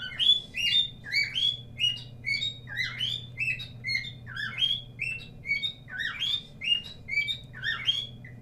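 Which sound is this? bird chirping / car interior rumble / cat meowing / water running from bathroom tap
bird chirping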